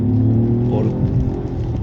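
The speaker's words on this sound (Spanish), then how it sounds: "reacciona bien, es un motor enérgico, son 136 caballos bien aprovechados" The hybrid engine of a 2025 DS3 Hybrid SUV, rated at 136 horsepower, accelerates with a steady, close-up hum and whir. A low rumble runs underneath, and no talking is heard.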